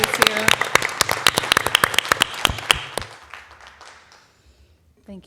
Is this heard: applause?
yes